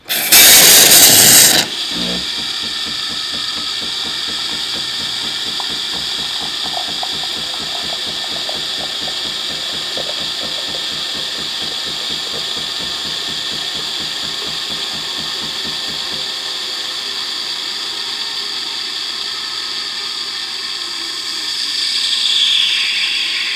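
A 2023 Jura E6 Platinum espresso machine making a milk-based drink: a loud burst at the start, then a steady mechanical whirring hum with a fast pulsing buzz that stops near the end, leaving a quieter hiss.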